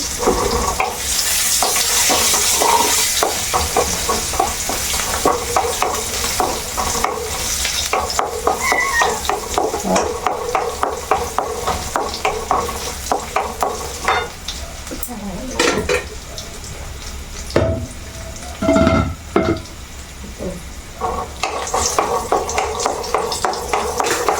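Mustard seeds, curry leaves and dried chillies sizzle in hot oil as a tempering for bitter gourd pachadi, with constant frying hiss, repeated stirring and metal clinks of a spoon on the pan, and a few louder crackling bursts near the end.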